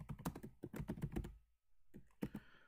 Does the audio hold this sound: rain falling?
no